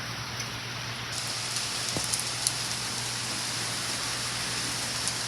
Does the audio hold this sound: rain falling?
yes